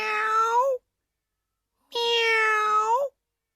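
A voice imitates a cat's meow: two drawn-out, tonal mewing calls, near and clear, separated by about a second of silence, with no other sound around them.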